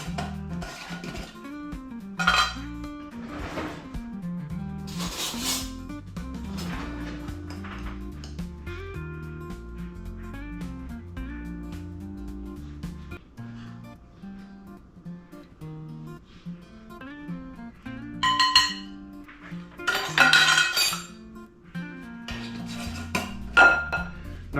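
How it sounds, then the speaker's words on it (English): Flour being mixed into meat in a bowl for crockpot cowboy soup: repeated scraping, clinking of a utensil against the bowl and rustling stirs, with louder clanks toward the end. "So let's put some flour on that meat and get it mixed up here."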